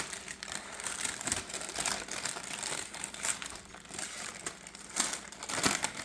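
Parchment paper being peeled from a rolled pumpkin cake gives a steady, close crinkling and crackling, with a few louder tearing bursts and no voices.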